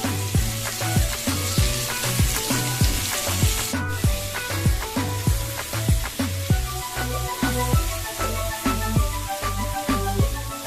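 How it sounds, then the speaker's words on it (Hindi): Potatoes fry in a pan with a steady hiss of sizzling for the first few seconds. The sizzle then fades under rhythmic background music. "कर लेने के बाद इसे थोड़ा फ्राई होने के लिए छोड़ दें।"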